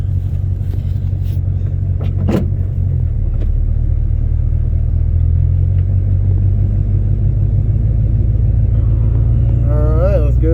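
A lowered GMC C20 truck cruises on a test drive, giving a steady, loud low engine rumble and road drone throughout, with a brief rev near the end.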